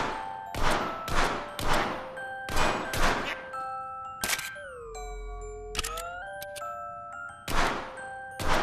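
Sharp gunshots in a VR shooting game fired at ducklings, about a dozen spaced shots ringing out with metallic ringing tails, with a mechanical clack and whirring sound midway between volleys.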